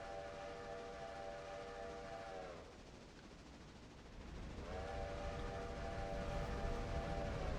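A passenger train passes in the distance, its horn sounding two long, steady multi-tone blasts separated by a brief gap, over a low continuous rumble of rolling wheels.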